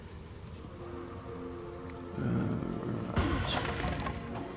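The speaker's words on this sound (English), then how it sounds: "Let's have some rain on the job." Rain spell in the Divinity: Original Sin game, a dense patter of falling rain that swells partway through and continues under other game sounds, with a brief spoken word.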